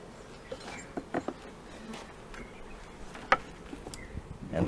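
Honey bees buzz faintly around an opened hive at a tropical beekeeping site, with a thin insect drone and scattered clicks and knocks from hive handling nearby.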